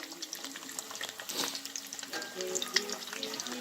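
Quiet sizzle and crackle of two eggs frying over easy in a non-stick pan, with soft pops and spatters scattered throughout.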